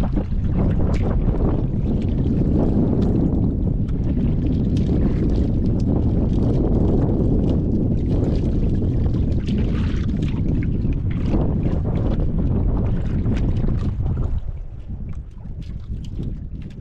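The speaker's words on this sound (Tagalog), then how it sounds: "Daming hangin ay." Strong wind roars and buffets the microphone continuously, with a rushing, boat-like rumble that eases slightly near the end.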